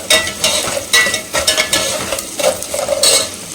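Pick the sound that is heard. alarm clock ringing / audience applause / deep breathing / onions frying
onions frying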